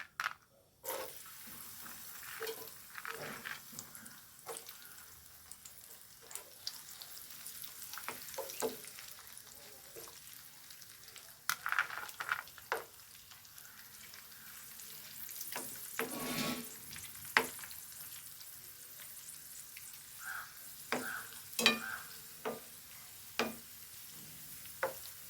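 Raisins frying in oil in a pan while making fried chicken biryani at home, a steady soft sizzle broken by frequent stirring scrapes and clinks, close by with no talk.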